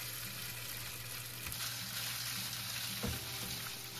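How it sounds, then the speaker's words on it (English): Beef pieces sizzle steadily in a hot oiled pan, a continuous broadband frying hiss with a few brief clatters and a louder knock near the end, no voices. "Add a little bit more oil to the hot pan. Add the beef and spread them out."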